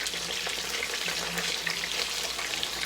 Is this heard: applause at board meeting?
no